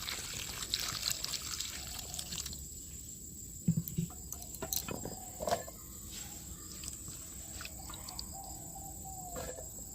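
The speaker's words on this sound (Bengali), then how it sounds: "এবার পেঁপেটা ধুয়ে আমি মিক্সির জারের মধ্যে দিয়ে দিচ্ছি।" Diced papaya pieces washed under water, with a steady faint pour and trickle, soft splashes and a few knocks of the pieces against a container, close.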